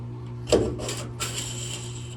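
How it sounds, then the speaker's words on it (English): Window trim pried off the interior of a stripped-down Impala, a short rubbing scrape followed by two softer scraping pulls over a steady low hum, close and alone. "That's how you remove window trim, I guess."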